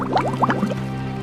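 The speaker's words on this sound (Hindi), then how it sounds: "नदी किनारे पहुंचते ही अपने अपने मटके में पानी भरकर" Water is poured into clay pots at a riverbank. A quick run of gurgling, glugging splashes lasts under a second, then fades into a steady low hum.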